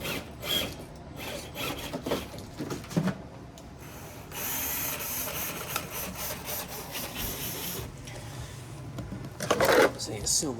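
Axial SCX24 micro RC crawler truck motor and gears whirring and grinding under throttle in several bursts, with mechanical ratcheting and rasping, loud and close, with people talking at times.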